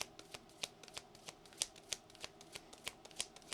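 Tarot cards are shuffled nearby in a quiet, quick run of crisp riffling snaps and soft slaps, about a dozen sharp hits over a few seconds.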